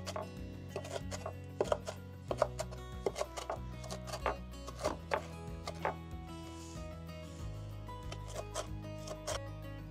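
A knife coarsely chops ground elder (goutweed) on a board for crêpes, giving a run of quick, irregular close taps over about ten seconds at modest volume, without talking.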